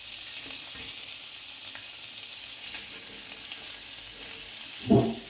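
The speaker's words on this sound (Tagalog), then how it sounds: "fry lang natin yan, guys, in around 7 minutes" Satay chicken skewers fry in a hot pan with a steady, bright sizzling hiss that stays even throughout, close by, ending in a short louder clatter as a piece is moved.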